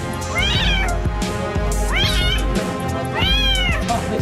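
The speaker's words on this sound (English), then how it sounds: "The kitten had somehow gotten stuck in a washing machine. It's pretty mysterious. He was crying so loudly." A kitten trapped inside a washing machine cries loudly in three long, rising-and-falling meows, close and strained, with steady background noise between the calls.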